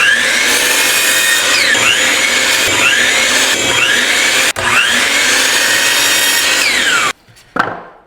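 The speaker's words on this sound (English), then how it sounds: "We're gonna do that on the miter saw." A miter saw cuts lengths of 3/4-inch wood boards in a workshop, loud and close, with several sweeping blade passes and a brief pause before the blade winds down at the end.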